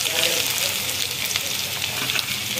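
Onion sizzles steadily in hot oil for a spicy Konkani-style fish curry, a loud, continuous frying hiss that fills the whole stretch.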